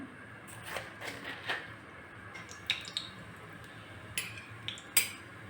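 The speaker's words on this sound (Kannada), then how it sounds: "ಜೀರಿಗೆ ಸಿಡಿತಿದೆ" Cumin seeds spluttering in about two spoons of hot oil in a pan for tempering, heard as sparse, quiet crackles and pops scattered over a low background hiss.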